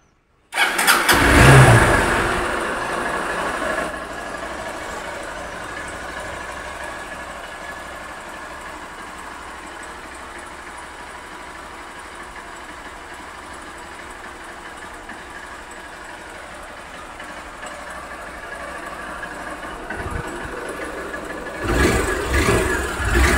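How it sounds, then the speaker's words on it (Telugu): A 2022 Honda Unicorn motorcycle engine cranks and catches with a loud burst, then settles into a smooth, steady idle that runs quietly for many seconds before a slight rise in level at the end. "ఒకసారి ఇంజిన్ నాయిస్ ఎలా ఉందనేది కూడా చెక్ చేయండి."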